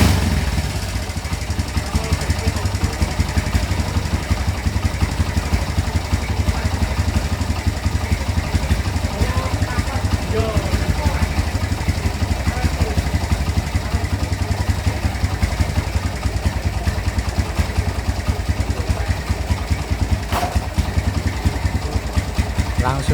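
A motorcycle engine with a returned camshaft and stock camshaft bearings idles steadily on an unchanged carburetor setting, a close, constant mechanical chugging with faint clatter that runs the whole time.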